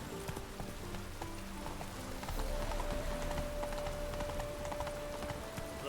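Hooves of Roach, the horse in The Witcher 3 video game, clop at a gallop over rain-soaked ground, a quick steady rhythm under a constant rain hiss, with a faint tonal game sound joining midway.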